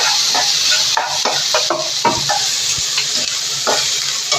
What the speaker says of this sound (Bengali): এইখানে আদা আছে, এইখানে রসুন আছে, সবগুলোকে একটু ভেজে নেব।